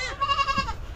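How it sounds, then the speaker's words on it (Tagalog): A single wavering goat bleat, close and clear, lasting about a second. "Dalawa yung nanganak na kambing."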